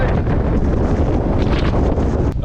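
Strong wind roars and buffets the microphone continuously on the Azores Islands, Portugal, a loud, rumbling gusty rush with no voices.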